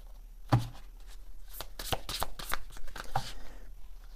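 Tarot cards being handled and shuffled: a sharp tap at the start, then quick riffling flutters and soft slaps close by, with no talking.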